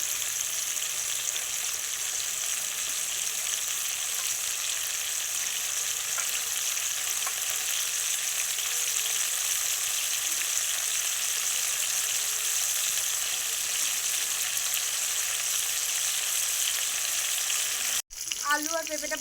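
Potatoes and papaya fry in hot oil with a steady, dense sizzle that holds even and close for most of the time, then cuts out abruptly for a moment near the end.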